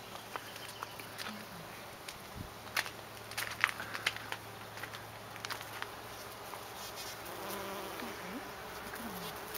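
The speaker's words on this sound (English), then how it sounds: "you'll hear the bees" Bees buzzing in a blooming California lilac bush on Salt Spring Island, Canada, a soft, continuous hum from many insects close by, with occasional rustles and light taps.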